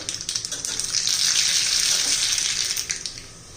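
Mustard seeds dropped into hot oil for a tempering crackle and sizzle in a steady, hissing burst close by, swelling then easing off over a few seconds with no talking.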